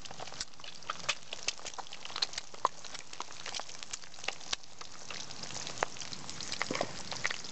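Eggs and bacon fry in a pan at a winter wild camp, giving a steady, fairly quiet crackling sizzle with scattered sharp pops throughout and no talking.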